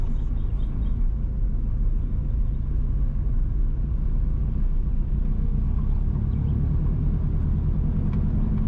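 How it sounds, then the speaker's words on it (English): A car driving along a rural road past a distillery and sugar factory in Jamaica, heard from inside as a steady low engine and tire rumble throughout, with no talking. "We are now driving on the Worthy Park to Bamboo Road."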